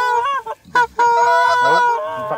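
Geese calling near a hunting blind, loud, close, honking cries in a quick series with brief gaps between them.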